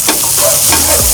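Smash burgers and onions sizzle loudly on a Blackstone griddle, a steady frying hiss with a few scraping, stirring clatters as the patties are flipped and the onions tossed.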